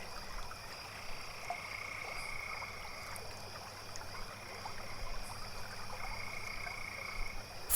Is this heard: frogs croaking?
yes